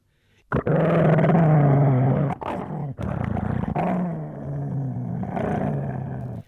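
An enormous hound growls and roars in long, deep, menacing bursts, loud and close, as a sound effect in a dramatized reading of The Hound of the Baskervilles.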